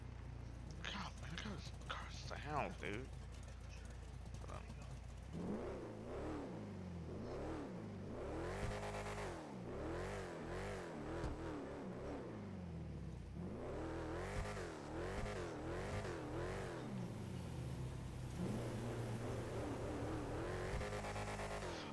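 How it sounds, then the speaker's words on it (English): A car engine in a video game revs repeatedly, rising and falling in long surges under steady talk, with a brief lull between bursts of acceleration. "look how this car sounds"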